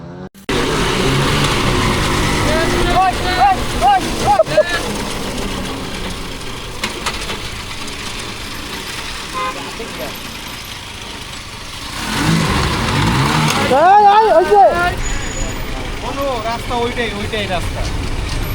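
A Vespa scooter rides along the Mawa expressway with a droning engine and road rush that swells as it picks up speed, while riders talk over it and other traffic passes nearby.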